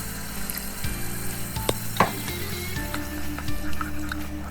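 Cinnamon and bay leaf frying in hot oil for egg malai curry, a continuous crackling sizzle with occasional sharp spits and utensil clicks, close and moderately loud, with a low hum underneath.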